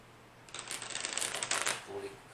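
Oracle cards for a reading are shuffled in a short, close papery riffle that rises and fades over about a second and a half, alone in a quiet room.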